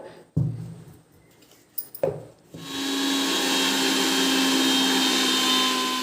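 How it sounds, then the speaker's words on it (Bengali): An electric mixer grinder pulverizes ingredients into powder for a homemade hair colour. A few sharp clicks and knocks come first, then the motor spins up into a loud, sustained whir. "এই যে মিক্সি দিয়ে আমি ভালো করে গুঁড়ো করে নিয়ে আসলাম"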